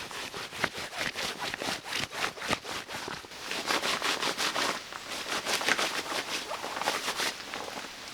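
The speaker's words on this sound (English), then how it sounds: "the material is a pretty scratchy," Scratchy, noisy fabric of a low-cost Tidewe rain suit rustles and scrapes in steady close-up strokes, a rhythmic rasping swish repeating several times a second without pause.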